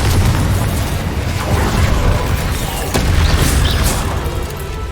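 A Confringo blasting spell explodes in Hogwarts Legacy: dense, rumbling booms and crackling bursts fill the stretch continuously, loud and close, with a sharp impact near the middle.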